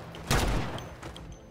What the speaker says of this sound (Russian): Давай сейчас по одиночным целям с дигла подаем.